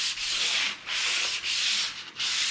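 Sanding on a wooden cabinet piece held steady in a track makes a loud, close, raspy scrubbing in three or four long back-and-forth strokes with short pauses between.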